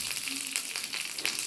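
Steady crackling sizzle of curry leaves dropped into hot oil with fenugreek, close and continuous with faint bursts of popping.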